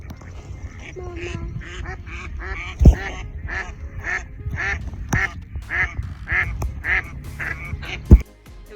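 Ducks quacking at a riverside campsite near Horseshoe Bend in the early morning: repeated loud, close quacks in an irregular chorus over soft background noise, with a couple of sharp knocks.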